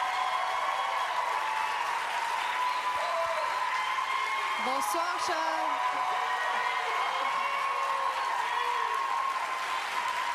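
A studio audience at a reality-show gala keeps up steady applause and cheering in a hall, a continuous wash of clapping with whoops, while a host greets a contestant over it.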